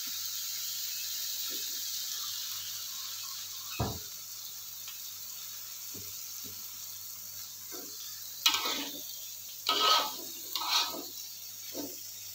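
A home kitchen pan of food being stirred after a splash of water is added, soft sizzling underneath a few scattered scrapes and clacks of the utensil, with bursts of bubbling hiss near the end.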